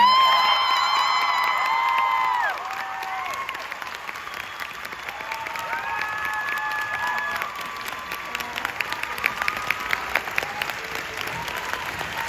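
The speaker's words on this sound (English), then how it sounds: "Clap for Eddie Redmayne one more time." Audience at a post-screening film festival panel for Eddie Redmayne applauds and cheers, with a loud burst of whistles and whoops at first that settles into steady clapping; voices shout within the crowd noise.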